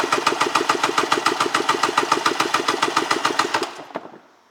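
A 1996 Polaris SL 780 snowmobile engine cranking during a compression test, a loud, fast, evenly pulsing chug that runs steadily for about four seconds, then slows and stops.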